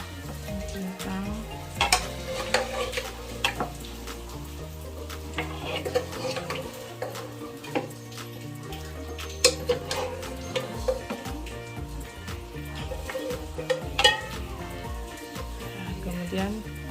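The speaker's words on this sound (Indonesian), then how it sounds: "Kemudian masukin kentang yang udah digoreng tadi, seperti itu." Fried potatoes are stirred into Mauritian briyani in a pan, with steady oil sizzle and occasional scrapes and knocks of a utensil against the pan, close and continuous throughout.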